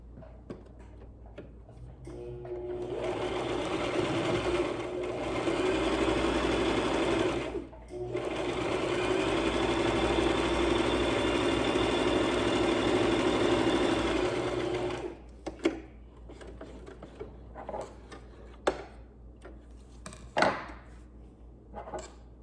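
Sewing machine stitching a short fabric strip onto a log cabin pillow: two long steady whirring runs, loud and close, separated by a brief pause, then ending in scattered clicks and handling noises.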